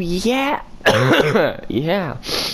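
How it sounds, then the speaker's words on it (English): A man with an upper respiratory infection clears his throat and coughs repeatedly at close range, rough bursts mixed with his own speech. "if my coughing is annoying you"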